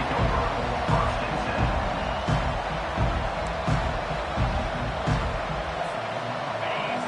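A football stadium crowd roars in a constant, dense wash of cheering and noise, with faint voices mixed into the din throughout.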